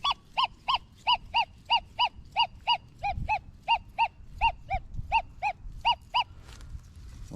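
XP Deus 2 metal detector on an iron target at a rice plantation gives a fast train of short, evenly spaced electronic beeps, about twenty in a row, loud and close over faint low rumble and handling noise.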